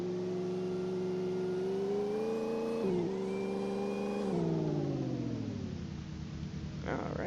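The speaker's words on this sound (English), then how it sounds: "You could definitely hear the supercharger. It whines like a Hellcat." Supercharged car engine accelerating with a high, steady supercharger whine rising in pitch over the engine's drone, dipping briefly at a gear change before climbing again, loud and close throughout.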